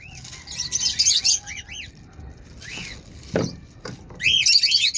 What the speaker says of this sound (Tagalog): nag-umpisa na naman yung ibon ko